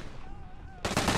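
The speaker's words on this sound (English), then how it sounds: "it's an MG!" Machine gun fire in the Hell Let Loose video game, set at Foy during the Battle of the Bulge, starts abruptly after a quieter stretch and becomes a loud, dense, continuous rattle of rapid shots.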